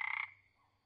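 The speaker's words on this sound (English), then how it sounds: "Crowned tree frog." A crowned tree frog lets out a single short, rapidly pulsed croak, loud and near, that fades quickly into faint background noise.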